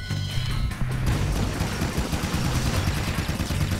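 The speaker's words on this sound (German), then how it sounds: "Auf das Vieh kann ich so lange ballern," Rapid gunfire rattles in Jak 2 as shots are poured into a monster, a dense, loud burst of crackling reports that runs on steadily without pause and with nobody speaking.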